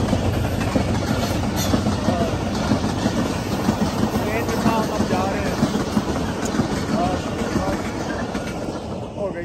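A passing train on a rail line, a loud continuous rumble with wind buffeting the microphone throughout, heard close, with people talking over it.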